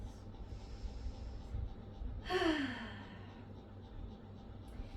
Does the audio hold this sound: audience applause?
no